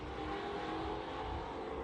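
Street stock race cars roaring along an asphalt oval's back straightaway, a steady dense engine drone with no break, loud and continuous.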